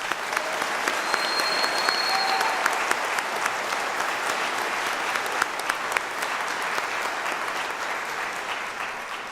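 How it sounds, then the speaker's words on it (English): A university commencement audience applauds, a dense, sustained wash of clapping from a large crowd in a hall, steady and fairly loud throughout. "Please help me by giving a round of applause to Professor Carl Moman"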